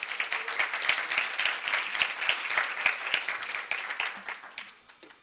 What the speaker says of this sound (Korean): 당신의 특별한 순간을 위한 DIY 칵테일 키트 인조잉 라이언즈의 권재우 대표를 박수로 맞아주시기 바랍니다.